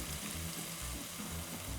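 Continuous soft sizzling and crackling from leg of lamb frying in an iron pan, close and fairly quiet, with no voices.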